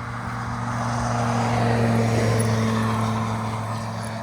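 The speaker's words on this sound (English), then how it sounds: "Sorry, these cars are loud." Loud traffic on a rural road beside a hiking trail, a steady engine drone and tire roar that swells as a vehicle passes close by and then eases off.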